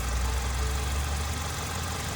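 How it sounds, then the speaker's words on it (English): A 2015 Honda Accord engine idles close by with a steady low rumble and faint rattling vibration, unchanging throughout. "This is very hot and the car is running"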